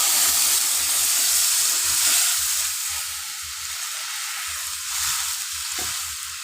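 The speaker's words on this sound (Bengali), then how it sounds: "একটু সেদ্ধ হবে, ঝোলটা ঘন হবে।" Amra (hog plum) chutney with water simmering in a pan gives a steady, loud sizzling hiss, with faint soft bubbling and low knocks coming through at intervals.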